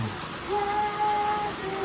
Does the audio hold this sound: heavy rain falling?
yes